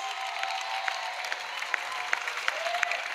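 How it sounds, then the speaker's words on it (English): A church audience at an evangelism gathering applauds, with steady, moderately loud rhythmic clapping over a background crowd hum. "Acclamation à Jésus Christ. Clap for Jesus."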